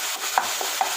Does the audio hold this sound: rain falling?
no